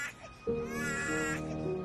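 A baby cries in a French-dubbed TV drama, a sustained, wavering wail that starts abruptly after a brief faint sound and holds steadily, fairly near.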